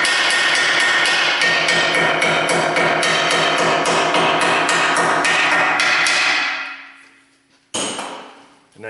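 A hammer chips rust and corrosion off the rear hub of a Dodge Grand Caravan, loud rapid metallic blows ringing close for several seconds, then fading out before one more sharp clang.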